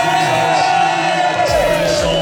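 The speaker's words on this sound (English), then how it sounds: "so big cheer out for Bernie" Supporters at an international butchers' competition cheering and whooping for a team member, a short loud burst of shouts and cheers.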